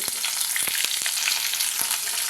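Curry leaves and green chilli pieces frying in hot oil, a dense, bright crackling sizzle with quick spatula taps, close and continuous with no talk.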